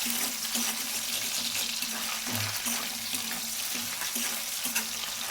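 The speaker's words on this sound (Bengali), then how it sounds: "দেখুন কত তেল ছিটাচ্ছে তো সাবধানে ভাজতে হবে যেন চোখে মুখে ছিটা না লাগে তেল" Rohu fish heads frying in spattering oil, a steady close hiss with regular small pops and crackles, fairly even in loudness throughout.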